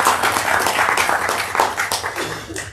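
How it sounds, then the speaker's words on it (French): Audience applause at the Jazz à Saint-Germain festival for composer, conductor and pianist Leïla Olivesi, a dense, steady wash of many hands clapping at close range, with faint voices mixed in. "je vous demande quand même un tonnerre d'applaudissements pour elle"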